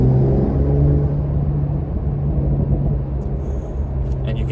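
A new Porsche 911 Carrera S with a PDK gearbox takes a gentle pull. A deep, steady exhaust rumble and engine drone fill the clip close up, with faint higher chirps near the end.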